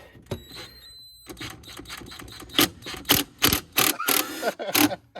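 A Snap-on socket wrench ratchets on an intake bolt during a 2021 Dodge Charger R/T intake install, giving a series of close, sharp metallic clicks in irregular bursts, with some speech in places.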